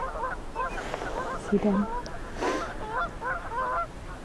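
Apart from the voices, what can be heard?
wild geese honking while courting on open water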